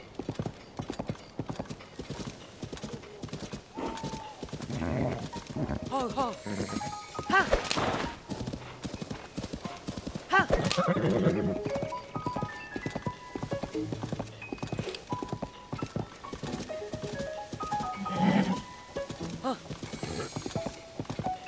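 Horse hooves clip-clop steadily on the ground in the video game Zelda: Tears of the Kingdom, a close, rhythmic clatter with a neigh and game sounds mixed in, while someone talks over much of it.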